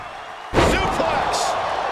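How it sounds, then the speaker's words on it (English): A gut-wrench suplex in the WWE 2K25 wrestling video game ends in a single heavy body slam onto the mat, a loud close thud followed by sustained crowd roar and commentary talk. "Gut-wrench suplex."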